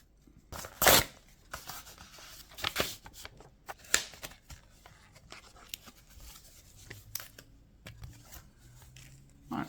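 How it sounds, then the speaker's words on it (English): Tape peeled back from a mailed package of Magic: The Gathering cards, with sharp ripping and crinkling bursts followed by quieter rustling and handling noises close by. "let's go ahead and peel back the tape"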